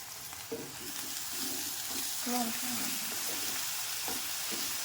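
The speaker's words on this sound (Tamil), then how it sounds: "இப்போ இஞ்சி பூண்டு பேஸ்ட் ஊற்றி நல்லா வதக்கணும்." Ginger garlic paste frying in a pan, with salt and turmeric added, while a chicken gravy is being made. A steady hiss runs throughout, and several clinking spoon stirs against the pan come through near and clear.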